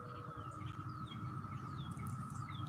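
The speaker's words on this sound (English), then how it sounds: "Listen to the owl, y'all." An owl calls outdoors in a series of thin, high, descending whistles, repeated every second or so above a steady low background hum.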